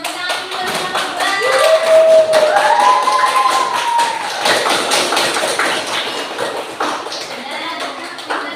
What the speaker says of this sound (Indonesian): Tepuk tangan dulu sama Mbak